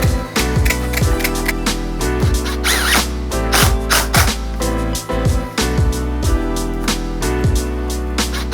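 A power drill drives screws to secure a rodent-proofing vent at close range, with repeated short whirring bursts, each winding down in pitch, in a quick, regular rhythm over a steady background hum.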